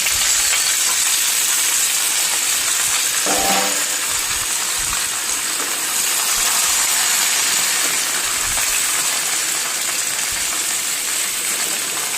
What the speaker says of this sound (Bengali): এখন সবজিগুলো সব ভেজে দেবো